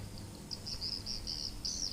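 Crickets and wild birds at dusk near a bird call speaker, a series of repeated high chirping trills in quick bursts over a quiet low background hum, moderately close and growing more continuous toward the end.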